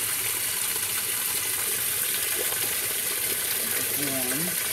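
A Whirlpool WTW5300SQ0 top-load washing machine fills with warm water, a steady close rushing gush that runs without a break and carries a faint tonal squeal near the end.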